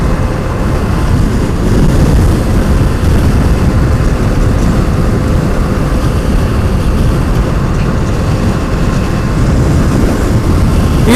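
A 2016 Zero DSR electric motorcycle running at freeway speed around 4,500 RPM, steady loud rushing wind and road roar with a faint motor whine, continuous and unvarying with no talk.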